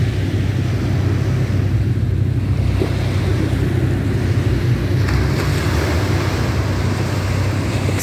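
Waves wash steadily onto a seashore at night under a bright moon, a continuous low roar of surf with wind buffeting the microphone throughout, no voices.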